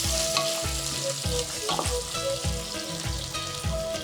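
Avarekalu beans fry in a pan with onions and fenugreek leaves, a close, steady sizzle punctuated by rhythmic scraping stir strokes roughly every half second, each with a dull knock of the spatula against the pan.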